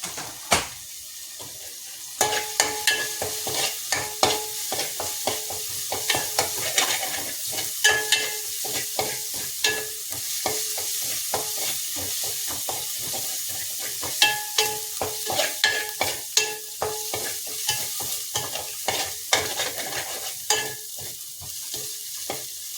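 Ginger-garlic paste and two chopped green chilies frying in a mix of coconut oil and vegetable oil sizzle steadily up close, with a spoon stirring and scraping the pan in frequent rhythmic strokes, no talking.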